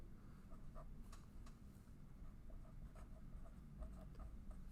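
Pen or marker writing out a slope formula on paper or a board, a soft, continuous scratchy stroking with brief pauses between strokes, close and alone over a low steady room hum.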